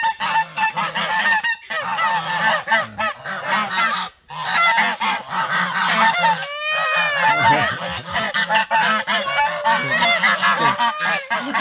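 Loud geese honk repeatedly and harshly, a dense chorus of overlapping calls close by, with brief pauses between bursts.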